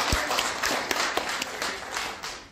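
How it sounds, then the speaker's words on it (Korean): Scattered audience applause at a lecture in the National Assembly Library auditorium in Seoul, a fairly quiet, thin patter of claps with a few sharper individual hand strikes standing out over a dense background. "이렇게 혹시 박수 한번 아주 확실하게 주실게요."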